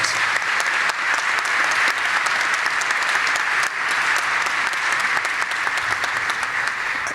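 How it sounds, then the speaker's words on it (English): A large audience at a scholars' breakfast event gives a sustained, dense round of applause honoring young men and their village, loud and even throughout with a faint voice beneath. "Please give yourselves, your village, as well as these young men, another round of applause."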